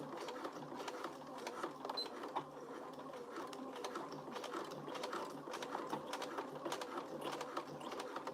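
Sewing machine top stitching a crossbody bag, a steady rapid needle chatter running throughout at moderate level, close by, with no voices.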